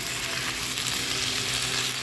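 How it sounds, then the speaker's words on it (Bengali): Red amaranth greens fry with onion in a hot pan, a steady, dense sizzle holding at an even level throughout, close and unbroken, with no voices. "এখন পেঁয়াজটা দিয়ে শাকটা ভালো করে একটু ভাজা করে নিতে হবে।"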